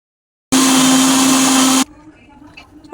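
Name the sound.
mixer jar blending chopped mango with sugar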